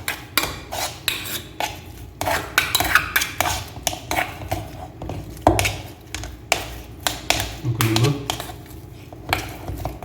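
Ingredients for crispy potato stick snacks are mixed in a bowl, giving quick, repeated clinks and scrapes of a utensil against the dish, steady and close, with occasional talk underneath.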